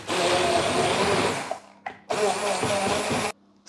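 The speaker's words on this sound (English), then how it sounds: "with a hand blender, I'm just going to blitz this till it's all nice and smooth" A hand blender whirs loudly through lemon curd mixed with butter, a steady buzzing drone for about a second and a half, then a brief pause and another loud burst before it cuts off.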